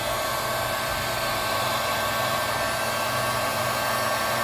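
A heat gun blows steadily on resin art with Arabic calligraphy on canvas, a continuous close whooshing roar of hot air that holds even for the whole stretch, with no talking.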